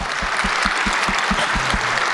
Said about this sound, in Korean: 우리 아동부 선생님들 위해서 큰 박수 보내주십시오.